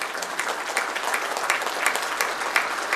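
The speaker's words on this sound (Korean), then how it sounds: "조약문을 교환하시자 참가자들은 열렬한 축하의 박수를 터쳐 올렸습니다" Enthusiastic applause from participants at the Kim Jong Un and Vladimir Putin treaty signing ceremony in the DPRK, a steady dense roar of many hands clapping throughout.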